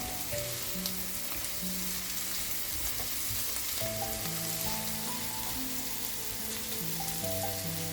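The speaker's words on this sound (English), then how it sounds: "Look at those onions sautéing," Onions sautéing in a pan give a steady, even sizzle with faint stirring, close and continuous, with a few musical tones running underneath and no speech.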